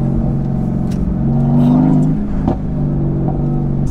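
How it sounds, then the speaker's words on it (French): A Mercedes-AMG GT S V8 engine, tuned to Stage 2 with 605 hp, growls and revs, rising in pitch as it accelerates and then easing off, heard up close with a deep, throaty tone. "Et celui-ci sonne un peu comme les V8 à l'américaine."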